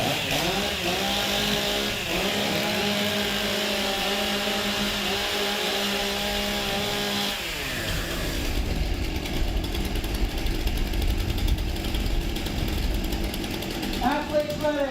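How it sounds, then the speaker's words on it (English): Chainsaws rev and warm up at a STIHL Timbersports competition, with high whining engines that rise and fall repeatedly, then give way to a rougher, crowded roar and an announcer speaking over them. "Warm up your saws."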